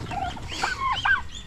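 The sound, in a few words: turkey gobbling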